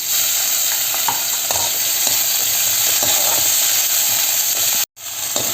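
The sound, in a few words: onions frying with ginger garlic paste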